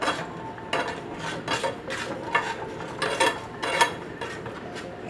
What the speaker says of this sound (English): And just mix it.